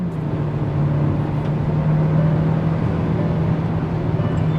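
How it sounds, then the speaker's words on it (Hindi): A turbocharged Hyundai Verna Turbo with a DCT gearbox pulls hard under full throttle with some wheel spin, giving a steady, loud engine drone heard from inside the cabin, continuous and without speech. "Some wheel spin, lots of power and torque with this futuristic and ferocious Verna."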